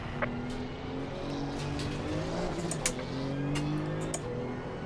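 A low-revving GT2 race car engine from the Assetto Corsa Competizione game drones steadily, with a gear-like rise and fall in pitch, a few sharp clicks over the top, and no talk.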